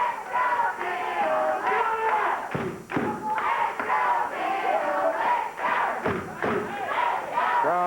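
Crowd in a 1989 Memphis wrestling arena cheering and yelling steadily, with thuds from the ring punctuating the roar and a commentator's voice running underneath.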